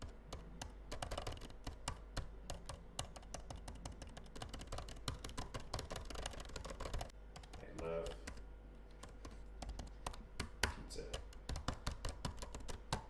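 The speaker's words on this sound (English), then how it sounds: "So this is how the keyboard sounds like." Rapid, uneven clicking of an M1 Pro MacBook Pro 14 keyboard being typed on up close, a steady flurry of taps with brief pauses.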